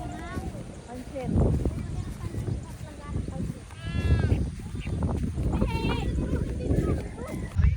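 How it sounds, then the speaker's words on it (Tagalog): Goats bleating at a rural farm in Maranan, several short quavering calls close by, mixed in with people chatting and outdoor background noise. "Nanunuwag pa ng kambing."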